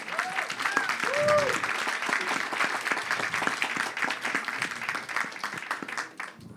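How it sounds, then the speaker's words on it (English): Steady crowd applause for an ambassador at a policy talk, a continuous dense patter of many hands filling the room, with a voice briefly audible at the start. "everybody please applaud him"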